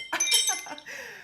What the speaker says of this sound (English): that's a wind chime I got